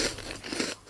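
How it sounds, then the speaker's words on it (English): A crunchy chocolate snack bitten once up close, giving a short, dry crunch with brief crackling and no talk over it. "It's the right amount of crunch and OMG, so much chocolate."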